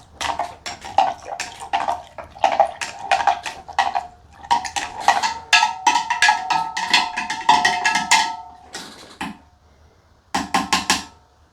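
A spoon stirs a homemade apple cider mixture in a pot, giving irregular clinks and scraping knocks against the sides with a brief watery slosh. The sound is close and alone, with short pauses between bursts.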